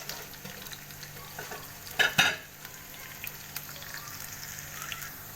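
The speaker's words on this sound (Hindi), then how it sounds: "एक पैन में हमने लेना है ऑयल, और जो प्याज हमने काट के रखे थे हम प्याज को करेंगे फ्राई" Onions fry in oil in a pan with a soft, continuous sizzle, broken by a brief clatter of utensil against the pan just past the middle.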